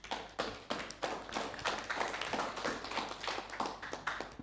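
Audience at a semi-final English debate competition clapping after the performance, a steady mid-sized round of applause with scattered sharp claps, continuous and fairly close, with no talking over it.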